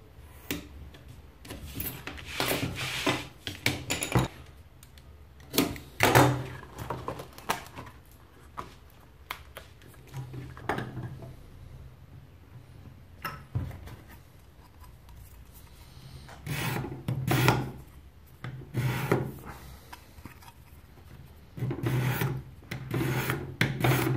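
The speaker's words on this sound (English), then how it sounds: "So now I'm going to cut out the second piece of shim." Hand sawing or filing a small shim piece for a bass guitar neck shim, cut to ruler width: a series of dry, rasping strokes in bursts close to the mic, with short pauses between passes.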